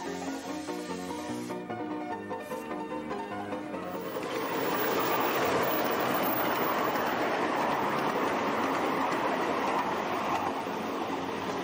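A moving train rumbles past at Camp Siding on the Riverside & Great Northern during a 2003 Iron Horse Round Up. Faint mechanical clatter at first swells into a loud, steady roar of wheels and cars close by.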